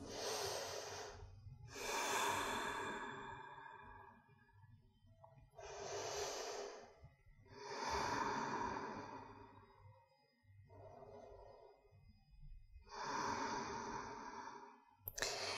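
Slow, deep breaths during a held yoga pose, several long audible inhales and exhales in an even rhythm, quiet and close with pauses between them.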